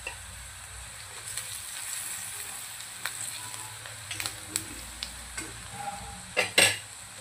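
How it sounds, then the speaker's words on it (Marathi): Onion sautés in hot oil for chana masala, a steady close sizzle broken by scattered scraping stirs and a few louder clanks of the spoon against the pan near the end. "आपल्याला कांदा परतून घ्यायचा आहे तेलामध्ये"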